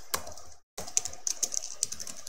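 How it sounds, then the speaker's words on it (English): Typing on a computer keyboard, a rapid run of light key clicks with a brief gap, then a steady irregular patter of taps, close and fairly faint. "We can start typing like"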